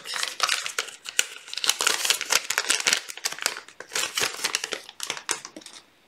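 Crinkly plastic rustling as a thin vellum die-cut is slipped into a small plastic bag, a close, busy run of crackles and soft crumples lasting several seconds with no talking.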